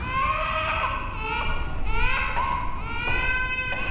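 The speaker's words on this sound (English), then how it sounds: "I would sound like that child crying." A child cries steadily in a FNAF video game tape: a sustained, wailing sob that rises and falls in long, strained phrases over a constant background hiss.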